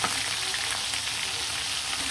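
Chicken pieces frying in a pan give a steady, close, even sizzle that holds without pause, with no talking.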